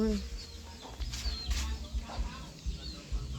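Farm chickens clucking at close range in a rural Thai yard, scattered irregular clucks over a steady low background with people talking nearby.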